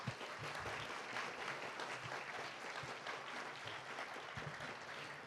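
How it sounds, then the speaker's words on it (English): A writers-festival audience gives a steady round of applause, a dense, continuous wash of many hands clapping that stays even and moderately distant throughout. "Please give them a round of applause."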